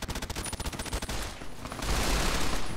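Gunfire in the video game Fallout New Vegas, a quick series of evenly spaced shots, then a denser, louder burst of sustained fire that carries to the end.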